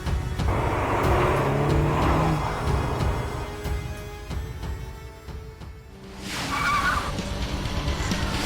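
A 2017 Honda Civic Type R drives with steady engine and road noise, loud and close throughout, dipping briefly before swelling again with a brighter tonal whine near the end; no one speaks.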